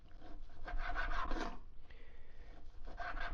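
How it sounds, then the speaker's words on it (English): A knife cuts through bunched raw bacon on a board, a few close, soft rasping strokes in short bursts with brief pauses between them. "this is a little tricky because bacon wants to do its thing when you cut it"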